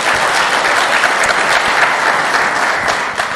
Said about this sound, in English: A round of applause for Sergei.